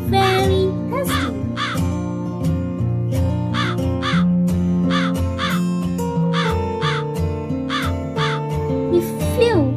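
A crow caws again and again in sharp bursts over steady cheerful music, with a child-friendly storytelling feel; no voice is heard.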